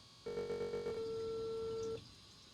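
In the video game Unheard, an outgoing phone call rings out with one steady electronic tone lasting under two seconds, clear and unbroken over faint background hum.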